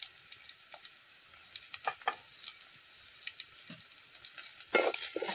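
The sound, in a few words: onions frying with salt, stirred in a pan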